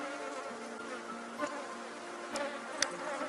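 A honeybee swarm buzzes at a beehive during an inspection, a steady, soft, close drone with a few brief sharper clicks and knocks breaking through.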